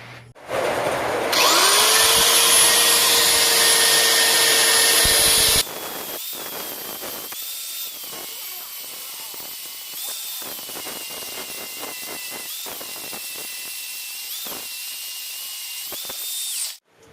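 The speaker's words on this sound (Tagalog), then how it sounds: "Gamitan na to na grinder." An angle grinder cuts through a broken steel topbox bracket on a Honda RS 125 motorcycle, a loud sustained high-pitched whine for about five seconds, then a lower, rougher grinding that continues with scattered bursts to the end.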